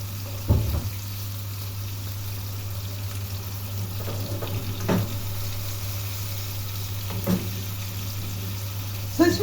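Fish frying in a pan that is being shaken: a constant loud sizzle under a low steady hum, broken by a few sharp scraping clanks as the pan moves. No talking.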